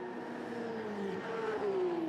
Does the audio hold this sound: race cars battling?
yes